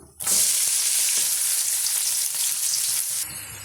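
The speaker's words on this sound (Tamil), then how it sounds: "வெங்காயம் ஓரளவுக்கு நல்லா நம்ம வதக்கி எடுத்துக்கலாம்" Loud, steady sizzling of onions frying in a hot pan, continuous throughout with faint stirring clinks, no voices.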